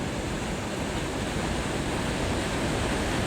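Water released from the Girna dam gushes out under heavy pressure, a loud, steady, broadband roar that fills the whole stretch without letting up.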